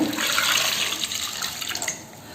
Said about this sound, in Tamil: இப்போ தண்ணி ஊற்றுறேன்.